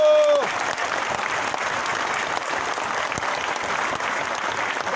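Audience applause at a Polish religious gathering, dense sustained clapping that fills the whole stretch at a loud, even level after a brief tonal sound at the start.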